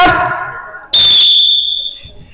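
A teacher blows a whistle to start a floor gymnastics ball-passing game: one loud, shrill, sustained blast of about a second that fades, following a voice and with background noise from the class.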